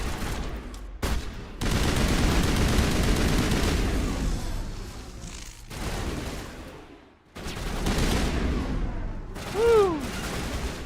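Rapid automatic gunfire from the Mass Effect video game comes in loud bursts separated by short pauses, with booming impacts and a falling electronic whine near the end.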